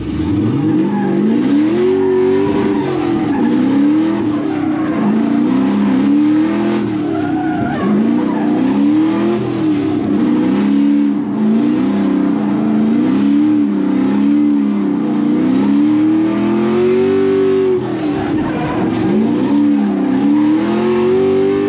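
A 2014 Chevrolet Camaro SS V8 drifting on a street, loud and close, its engine revving in repeated rising and falling surges with continuous tire squeal and skidding throughout.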